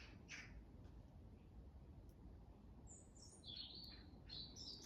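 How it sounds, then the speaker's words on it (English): Small birds chirp and trill in a summer container garden, a few quiet high calls scattered at a distance over soft outdoor background noise. "You can hear the birds."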